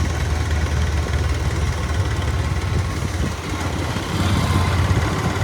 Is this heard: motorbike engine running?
yes